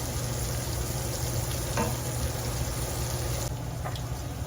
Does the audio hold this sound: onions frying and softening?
yes